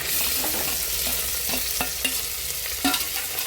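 Crushed onion is stirred in a hot pan while cooking coconut milk sambar, a continuous sizzle and fry with scattered scraping taps of the spoon, close and steady, no voices.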